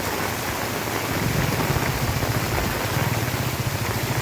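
Heavy rain pours steadily onto a flooded street in front of a temple, a dense, continuous hiss with low churning water beneath, loud and unbroken throughout.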